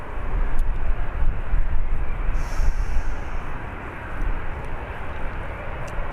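Wizz Air passenger jet departing Birmingham Airport, a loud broad engine roar that holds steady and then eases slightly as the aircraft moves off.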